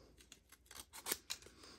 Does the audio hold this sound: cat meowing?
no